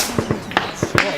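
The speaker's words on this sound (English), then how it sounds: "we came under accurate sniper fire from the direction of the airport" Sniper gunfire near Donetsk airport during a wartime street battle, heard as several sharp cracks in quick succession, with shouting voices around them.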